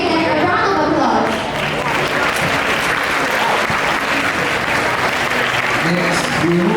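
Dense audience applause at a student leaders' investiture ceremony, steady and loud throughout, with crowd noise and a voice faintly audible at the start and near the end.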